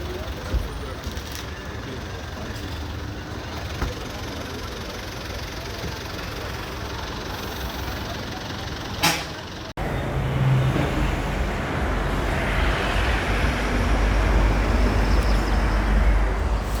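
A hired car on a road trip from Chennai toward Munnar, its engine running with a steady hum and road rumble that grows louder partway through, with people talking over it.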